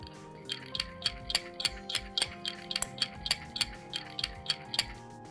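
Spoon stirring instant coffee into hot milk in a cup, making a rapid, regular series of bright clinks against the sides, soft and close.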